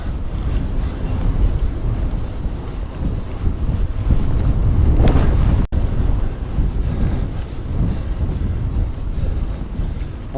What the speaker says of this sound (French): Ça souffle fort, il n'y avait pas de vent ce matin et c'est la tempête.